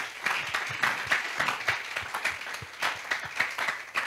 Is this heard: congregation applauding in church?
yes